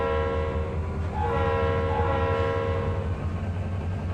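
A train in the Trainz 2022 simulator rolls past with a low rumble and clatter while its multi-tone horn blasts for a couple of seconds in the middle, fairly loud and close.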